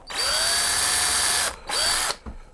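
Loud electric drill with a larger bit bores a hole in a metal PC case in two bursts, a long steady whine then a shorter one, each spinning up and winding down; close by, no voices.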